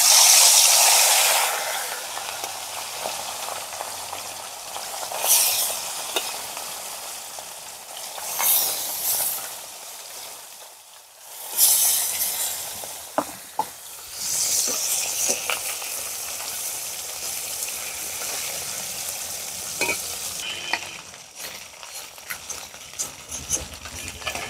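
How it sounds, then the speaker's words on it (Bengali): Puti fish coated in salt and turmeric frying in hot mustard oil, giving a steady close sizzle and crackle with intermittent stirring and utensil scrapes, no voices. "তেল গরম হয়ে গেছে, মাছগুলো ভেজে নেব।"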